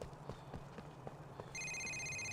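Phone ringing in GTA IV, a bright electronic ringtone cutting in partway through over faint rhythmic knocking and background game noise, then holding steady.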